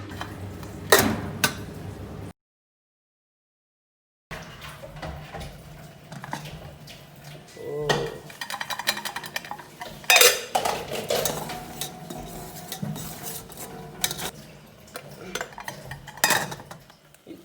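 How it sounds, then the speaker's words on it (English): A spoon stirs a sticky boiling coconut sugar mixture in a pan, making repeated close scraping and clinking strokes that come in irregular bursts, broken by a two-second silent gap. "we're gonna keep boiling it and turning it to ensure that it doesn't get too sticky and stick to the pan"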